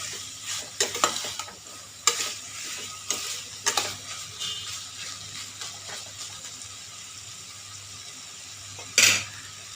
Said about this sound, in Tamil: அந்த அளவுக்கு நம்ம இதை நல்லா ஃப்ரை பண்ணிகிட்டே இருக்கணும்.